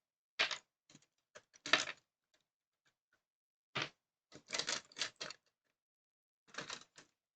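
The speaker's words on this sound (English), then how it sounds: "Grabbing out all the dice" Plastic dice clatter and rattle in short, separate bursts as they are grabbed out of a container, close and fairly quiet with silent gaps between handfuls.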